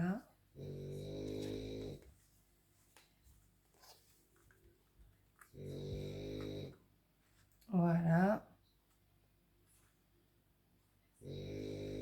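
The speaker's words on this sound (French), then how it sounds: "Je suis désolée pour les ronflements." Loud, rasping snores rise in several long bursts, each a couple of seconds apart with quiet gaps between, close by, while someone talks softly over the stitching of a cross-stitch project.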